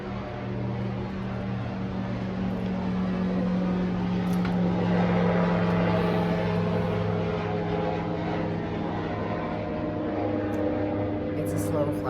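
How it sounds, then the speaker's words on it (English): A small propeller plane drones slowly overhead with a steady low hum that swells gently and then eases. It is heard indoors at a fiber festival weekend with faint room noise. "now I have a small plane coming over for traffic time"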